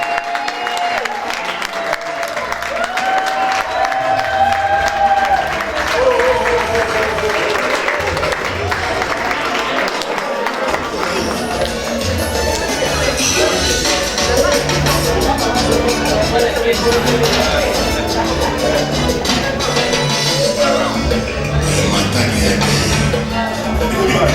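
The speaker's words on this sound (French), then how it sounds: "On l'acclame très très fort." A crowd at Papa Maurice Mvuavua's birthday party applauds and cheers loudly and steadily, with dense clapping and shouts filling the room from start to finish and voices mixed into the din.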